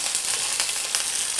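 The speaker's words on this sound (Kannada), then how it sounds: "ಸಾಸಿವೆ ಚಟ್ಟುಗುಟ್ಲಿ, ಈಗ 3 ಹಸಿಮೆಣಸಿನ್ಕಾಯಿ ಮತ್ತು ಸ್ವಲ್ಪ ಕರಿಬೇವಿನ ಸೊಪ್ಪು." Mustard seeds splutter and sizzle in hot oil in a pan during tempering, a dense, steady crackle with quick popping bursts, close and fairly loud.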